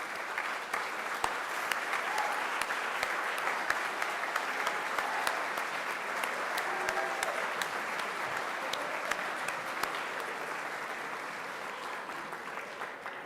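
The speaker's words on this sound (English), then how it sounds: "if you do please join me in a round of applause" Sustained applause from an audience at a Hall of Fame induction gala for the standing committee, dense steady clapping filling the whole stretch at an even level with no voices.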